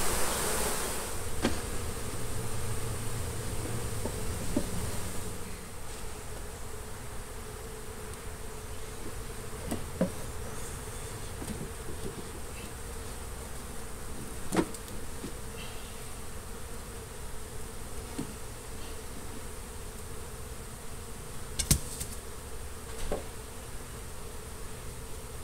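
Bees buzzing around a hive during a difficult hive removal, a continuous close insect drone with individual bees passing the microphone now and then, no talk.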